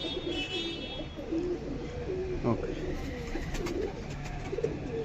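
Pigeons coo softly in low rounded phrases, a male bird among them, at a pigeon sale with someone talking over the birds throughout and a sharp knock midway.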